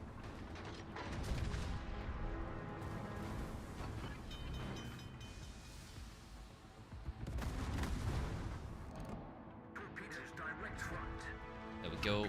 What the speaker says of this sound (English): Would you like some artillery?